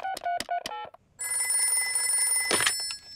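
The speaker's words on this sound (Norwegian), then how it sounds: "Ikke vær redd, jeg ringer doktor Brunbjørn." A cartoon telephone in Peppa Pig, with a quick series of bright dialing tones followed by a steady electronic ringing tone, loud and close with no talk over it.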